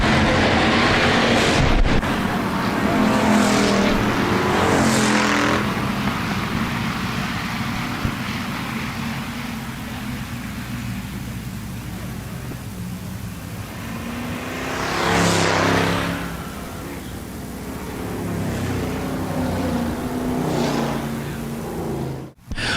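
Hobby stock race cars on a dirt speedway at Park Jefferson Speedway, a loud continuous roar of engines with passes swelling and fading as the pack circles the track.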